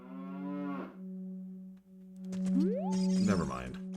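A cow in Zelda: Ocarina of Time lets out a long, loud, tonal synthesized moo, followed by game chimes and effects, with a voice talking alongside.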